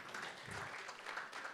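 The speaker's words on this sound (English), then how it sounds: "Let's clap for ourselves." Audience clapping at a talk on democracy and legal activism, a short, soft, dense patter of many hands in a room, continuous and distant.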